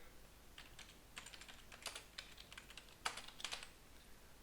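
Typing on a computer keyboard, with irregular bursts of light keystroke clicks at a soft, fairly close level and no voices.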